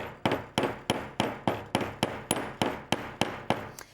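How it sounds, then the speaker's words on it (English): Steady hammer blows on pieces of 16 gauge wire to flare out the edges for a scrapbook craft, twelve sharp metallic taps about three per second, close and crisp with no talking. "all you're doing is just hitting it with some downward pressure moving outwards"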